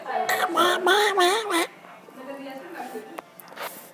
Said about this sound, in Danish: Kan I ikke se, min and bliver helt bange?